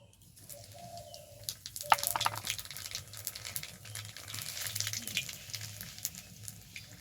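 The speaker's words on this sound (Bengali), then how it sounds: "এবার ওই মাছ ভাজা তেলের ওপরেই দেব ফোড়ন, লঙ্কা আর কালো জিরে।" Green chillies and black cumin (kalo jeere) hit the leftover oil from frying hilsa fish for shorshe ilish, giving a steady, moderately loud sizzle that swells midway and keeps crackling to the end, with faint bird calls in the background.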